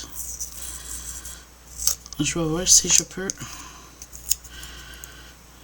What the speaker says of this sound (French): Je vais sortir un petit paire de ciseaux. Je vais couper le nom pour le recoller comme ça.